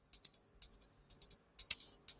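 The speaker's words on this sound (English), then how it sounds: "So I wanted to have my tambourine in there." Tambourine percussion loop in an Afro house track rattles its jingles in short, galloping clusters of two or three hits, quiet and dry.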